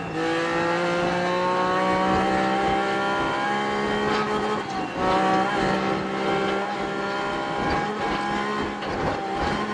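Rally car engine and tires in Assetto Corsa Rally, a loud, steady engine drone with shifting revs and bursts of gravel and tire noise throughout, no talking.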